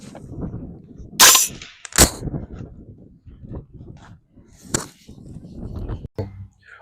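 A direct blowback gun firing outdoors: three or four sharp, loud cracks at irregular spacing, with low rustling and handling noise between shots.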